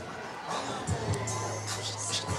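Small crowd at a UBA Battle Bowl bowling match during the World Championship, cheering and shouting in short bursts of excited voices over steady alley ambience, with talk mixed in.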